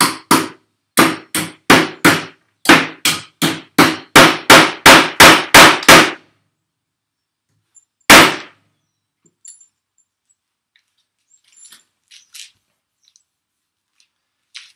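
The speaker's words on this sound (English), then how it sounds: "Just got one end off the hammer. Trying the nails out." A hammer drives nails into wood with about fifteen loud, sharp, close strikes in a quick steady rhythm, then a pause, one more hard blow, and faint scattered knocks and taps afterward.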